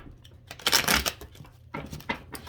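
Cards riffle and shuffle in quick papery bursts, close by, with a louder flurry early and another shorter burst near the end.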